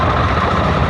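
A 1996 Honda NX650 Dominator (RD08) single-cylinder engine runs steadily with a loud, close, rough low rumble for a brief moment, no voices.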